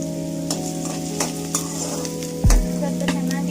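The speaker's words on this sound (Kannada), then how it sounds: "ಸ್ವಲ್ಪ ಚೆನ್ನಾಗಿ ಬ್ರೌನ್ ಕಲರ್ ಬರೋ ತನಕ ಅದನ್ನು ಫ್ರೈ ಮಾಡ್ಕೋಬೇಕು." Chopped onion frying in hot oil, a steady close sizzle with a few scraping stirs of a spoon and one louder clatter of a pan or utensil near the end, no voices.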